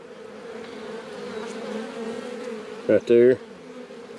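Honeybees in an opened hive of newly installed bees: a steady, close buzzing drone, with a brief spoken phrase near the end.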